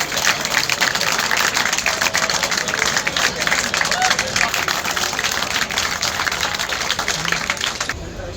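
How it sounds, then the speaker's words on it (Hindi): A crowd at an outdoor Run For Unity event on National Unity Day in Mahendragarh claps loudly and continuously for several seconds, a dense, close wash of applause that cuts off abruptly at the end. "जोरदार ताली"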